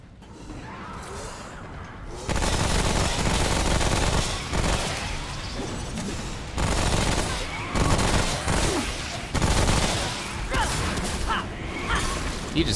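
SMG fire in the video game Remnant: From the Ashes crackles in loud, ragged bursts with mechanical clatter, layered over other game action and a voice talking.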